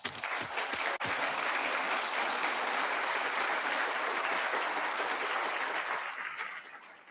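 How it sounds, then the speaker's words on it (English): A large audience at the opening session of an international human rights summit breaks into loud, sustained applause, a dense wash of clapping that holds steady for several seconds before thinning and fading near the end. "let us actually once again give our applause to this remarkable woman, Madame Mary Shuttleworth"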